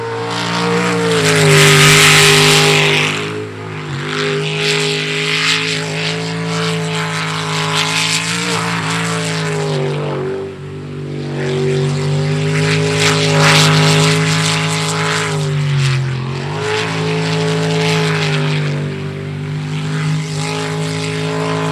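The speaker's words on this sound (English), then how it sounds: "A special sound to that 22 engine." A powerful racing boat engine, the number 22 boat at an ASBR STIHL Pro Racing elimination round, roars loudly and continuously, its pitch rising and falling as it revs, with no voices.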